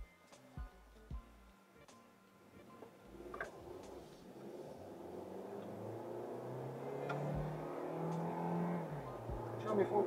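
A Hyundai Kona hybrid accelerates from inside the cabin, its engine drone and road rumble building steadily in a low, continuous hum over about ten seconds, with a few bumps and thuds early on.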